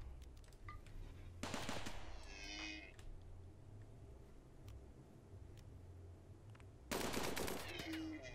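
Rifle gunfire in the video game RimWorld: two sharp, loud bursts of shots a few seconds apart, heard over a steady low background hum.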